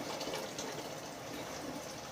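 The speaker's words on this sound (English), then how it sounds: "when you put your water in your pot, you only want to fill it to where it's about an inch above the stuff that's in your pot" Water pours into a cooking pot for a seafood boil, a steady, soft splashing gush that runs continuously and fairly quietly with no talking.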